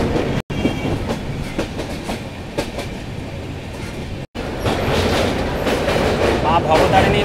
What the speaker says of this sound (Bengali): এটা হচ্ছে দক্ষিণেশ্বর মেট্রো